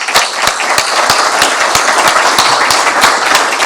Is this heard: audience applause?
yes